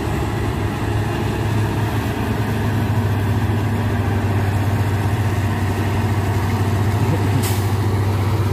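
An old truck engine idles steadily with a low drone, close and continuous, and a short air-brake hiss sounds near the end.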